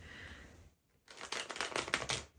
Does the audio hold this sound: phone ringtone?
no